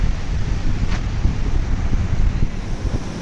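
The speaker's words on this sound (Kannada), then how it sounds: "ಮಲಪ್ರಭಾ ನದಿ ಹೇಗೆ ಉಕ್ಕಿ ಹರಿತಾ ಇದೆ" The Malaprabha river overflows at the Kolachi dam near Ramdurg, Belagavi, making a loud, unbroken roar of rushing water mixed with wind buffeting the microphone.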